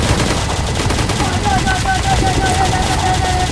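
Dense, rapid automatic gunfire from the Roblox video game rattles continuously at high volume, with a few shouted voices mixed in.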